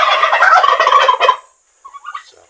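A turkey on a farm gobbles loudly and close in one rapid rattling burst, then gives a few fainter, softer calls after a short pause.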